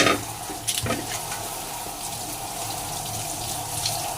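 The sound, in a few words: washing something under running water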